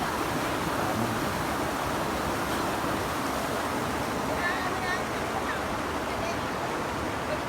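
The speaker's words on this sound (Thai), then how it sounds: "น้ำไหลขนาดน้ำล้นปุ๊บปุ๊บปุ๊บอยู่ครับ" Water pours steadily over a weir, a constant broad rushing and splashing like a small waterfall, with voices of people talking in the background.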